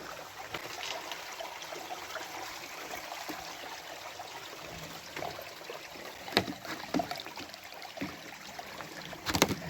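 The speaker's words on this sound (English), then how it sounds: "As you can see the river just streaming, running right through here." A creek runs under rocks on a winter hike to Grotto Falls in Utah. The water makes a soft, steady trickling rush, with a few sharper splashes and knocks near the end.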